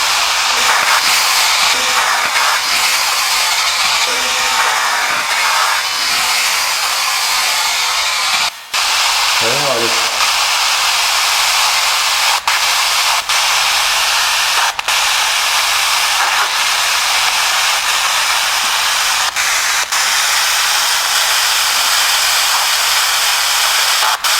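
Continuous loud hissing static runs throughout, with a few short clicks and dropouts and faint murmuring buried in the noise, recorded at Hollywood Forever Cemetery.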